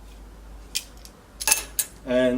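An Amtech mini pipe cutter is turned clockwise around a pipe, giving a few sharp metallic clicks and ticks, close and fairly quiet, with a brief voice at the end.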